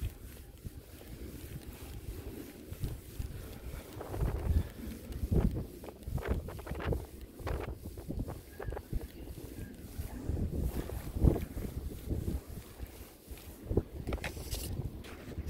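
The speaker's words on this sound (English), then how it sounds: "here we go with the wind again" Outdoor wind buffets a microphone during metal detecting with a 15-inch coil, a constant low rumble with gusting swells and scattered thumps and rustles throughout.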